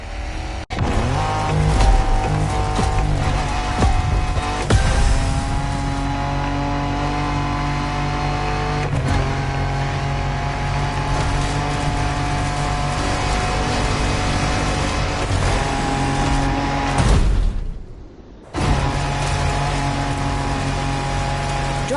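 A car engine drones and revs continuously while driving off-road in The Crew Motorfest, loud and close with gear shifts, rough surface rumble and a brief cut-out near the end.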